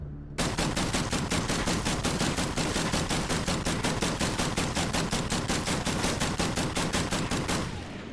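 A GLO 7.62mm light machine gun in Call of Duty NX1 fires one long sustained burst, with rapid, evenly spaced loud shots for about seven seconds before the fire cuts off.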